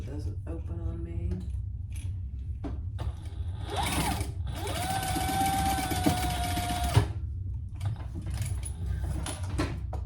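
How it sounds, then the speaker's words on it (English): A sewing machine stitches a zipper onto a Monarch mini crossbody bag in a steady whirring run of several seconds. Shorter bursts and handling noises come before it, with a background hum throughout. "I am gonna sew this so it doesn't open on me"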